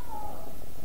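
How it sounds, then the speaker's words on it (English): A house cat lets out a single short meow, close and clear, over a steady background hum. "oh my god, that cat! That was my cat. If you heard that."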